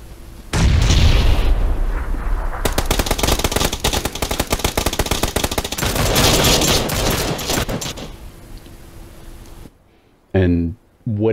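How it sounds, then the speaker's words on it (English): A PUBG gunfight erupts with rapid bursts of automatic gunfire and heavy blasts, loud and dense for several seconds before tapering off, ending in a brief silence and short bits of talk. "that gunfight you just heard was one team eliminating another"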